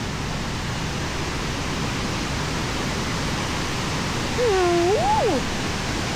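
Mae Ya waterfall in Thailand roars as a steady broadband rush of falling water, loud and unbroken throughout, with a brief high meow-like cry rising over it near the end.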